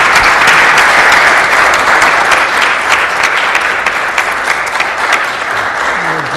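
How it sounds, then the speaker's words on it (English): Sustained applause from a conference audience, dense and steady clapping at close range for the full stretch, without a break and slightly easing toward the end. "let's give them a round of applause"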